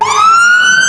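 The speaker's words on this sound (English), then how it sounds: "That's where the fire engine was heading." A fire engine siren on a Liverpool street wails loudly and close, its tone sliding steadily upward in one continuous sweep with no voices over it.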